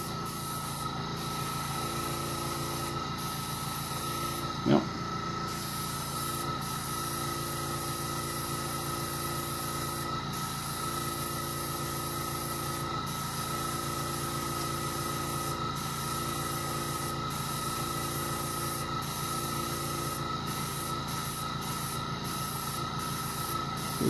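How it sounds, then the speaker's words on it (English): A sprayer driven by an air compressor lays clear color onto a woodturning with a loud, steady hiss that runs almost nonstop, broken only by a few brief gaps. "you can use a regular air compressor."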